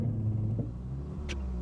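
A Subaru Forester stuck with its wheels spinning on a slippery mud hill, its engine a low, muffled rumble that revs briefly and then settles, with no talking.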